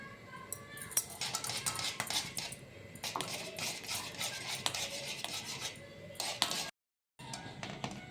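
Spoon stirring a condensed milk mixture for homemade malai chocolate ice cream, with scattered light clinks of utensil against a bowl over a steady kitchen background and a brief dropout near the end.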